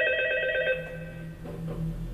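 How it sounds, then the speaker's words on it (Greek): A telephone rings inside a horror video game featuring animatronics. It gives one short, bright electronic trill that breaks off, followed by a low hum. "Τώρα χτυπάει το τηλέφωνο."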